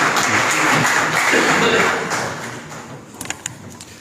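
A university audience applauds to welcome a speaker, with a dense, loud burst of clapping that fades over about three seconds, followed by a few scattered taps and thumps.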